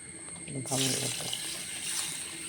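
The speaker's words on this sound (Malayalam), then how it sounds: "അരി ഒന്ന് കഴുകിടാൻ പോകുന്നു" Raw white rice being washed under running water from a tap, which starts abruptly partway through and then splashes and gurgles steadily and closely, with a brief voice mixed in.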